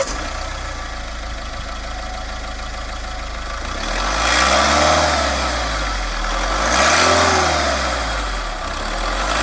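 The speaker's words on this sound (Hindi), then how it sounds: "मेरा अभी इंजन ऑन है, इसका साउंड काफी ज्यादा शानदार लग रहा है।" A Mahindra Scorpio N diesel automatic SUV engine idles steadily up close, then revs twice in smooth swells that rise and fall before settling back to idle.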